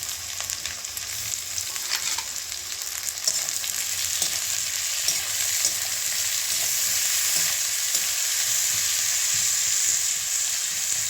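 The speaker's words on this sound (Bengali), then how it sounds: "এরপর পেঁয়াজটিকে লাল লাল করে ভেজে নেব" Onions with salt sizzling steadily in hot oil in a kadai after whole garam masala and dried chillies went in, a dense, even frying hiss lasting throughout with faint stirring scrapes.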